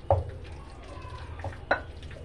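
A spoon mixes chopped tomato into mashed eggplant and potato for baigan chokha, giving two soft knocks against the bowl over a quiet low background.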